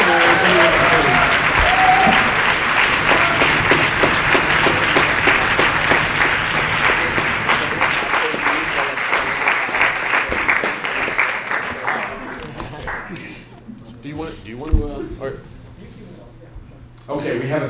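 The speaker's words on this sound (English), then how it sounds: "let me ask you all to give a round of applause to this extraordinary team" Audience applause for a team at the 2014 Latke-Hamentaschen Debate, loud dense clapping from a large crowd that holds steady for about twelve seconds, then thins into scattered claps and murmurs.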